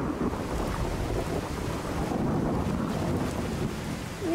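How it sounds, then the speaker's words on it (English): Heavy thunderstorm in Skyrim, a steady loud wash of rain with low rumbling thunder rolling underneath throughout, no voices. "Oh, the storm is so bad."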